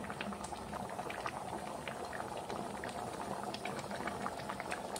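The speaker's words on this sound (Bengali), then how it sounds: "দেখতেছেন বন্ধুরা কত সুন্দর ভাবে ফুটটা উঠছে।" Dal of lentils with large vegetable stems bubbles in a pot on the stove, a steady close simmering patter and popping that carries on evenly throughout with no voices.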